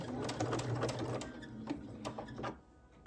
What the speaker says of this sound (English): You're going to sew that elastic down.